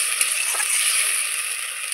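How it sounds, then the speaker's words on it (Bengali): Masala paste sizzling in a pan right after bowl-rinse water is added, while cooking gathi kochu alu dom: a loud, steady, close hiss that holds for the whole stretch, with no talking. "দিয়ে দিলাম বাটি ধোয়া জলটা, আবারও খুব সুন্দর করে আমি কষিয়ে নেব"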